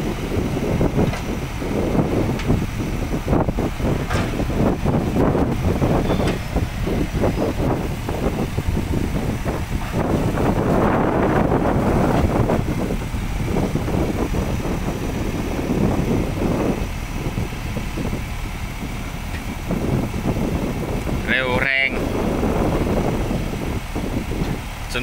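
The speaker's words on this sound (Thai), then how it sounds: "ลมค่อนข้างแรงฮะ" Strong outdoor wind buffets the microphone in continuous loud rumbling gusts for the whole stretch, at a yard where a Kobelco SK120 Mark 3 excavator with a 0.7 cubic metre bucket is shown; no talk is heard.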